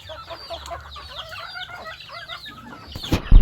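Chickens clucking around a rural provincial yard, several birds calling in short overlapping bursts at moderate distance, ending in a sudden loud close-up rustle and knock.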